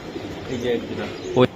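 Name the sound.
Pakistani Teli pigeons cooing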